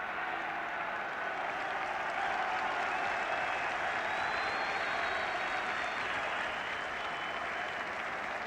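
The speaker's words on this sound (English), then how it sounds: "The cheer is not for the football, it's for a troublemaker, a solitary troublemaker in the crowd" A football stadium crowd at a 1977 Northern Ireland versus England international cheers and applauds in a continuous, dense roar that holds steady throughout at a moderate distance, with no commentary over it.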